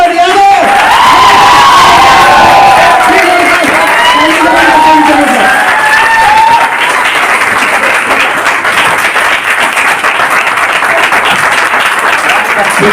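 A live audience bursts into loud, sustained applause with cheers and whoops to welcome a speaker on stage at an RCM business event in Ludhiana; the clapping stays dense and steady throughout, with crowd voices mixed in.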